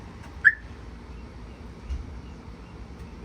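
A single brief, fairly clear chirp from the car alarm arming on a Mitsubishi Pajero fitted with an aftermarket GPS app-controlled alarm, followed by a fainter second blip over quiet background.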